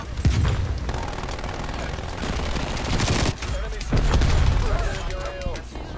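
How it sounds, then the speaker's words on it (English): Artillery strike in the Call of Duty Cold War video game: rolling bursts of explosions and gunfire crack and boom repeatedly across the clip, loud and dense, with heavy low impacts near the start and middle. "Northwest artillery inbound."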